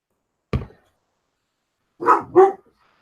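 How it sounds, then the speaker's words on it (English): A pointer pit mix dog barks three times nearby and indoors: one sharp single bark, a pause, then two quick barks in a row, with silence between. "That's my daughter's dog."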